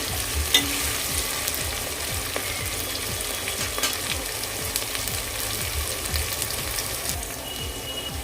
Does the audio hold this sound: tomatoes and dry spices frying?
yes